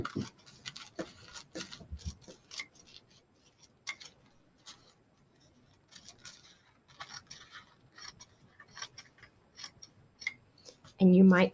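Paper napkin being cut for a junk journal pouch gives soft, quick scissor snips in uneven clusters, close and fairly quiet, ending with a brief louder rustle.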